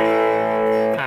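Guitar played through a Tube Screamer overdrive pedal, a single sustained distorted chord with thick harmonics ringing loud and alone before a quick change at the end.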